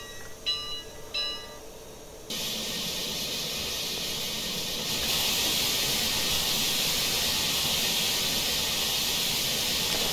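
A Great Northern Brooks 4-8-0 steam locomotive in Train Simulator Classic lifts its safety valves: after a few faint tones, a loud, sudden hiss bursts out and holds steady, then grows stronger and continues as a roaring rush of steam.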